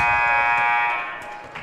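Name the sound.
end-of-quarter buzzer at a junior high basketball game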